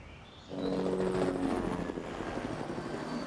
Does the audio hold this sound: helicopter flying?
yes